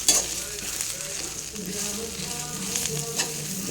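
Ingredients sizzle and fry steadily in a hot pan for kalamak pachadi, a continuous close crackle with occasional stirring scrapes and no talk.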